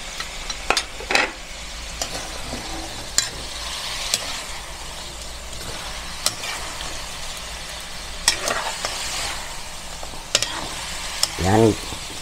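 Tofu sautéing with pork belly and black beans in a pan, a steady sizzle broken by several sharp scrapes and clacks of stirring, with a louder clatter near the end.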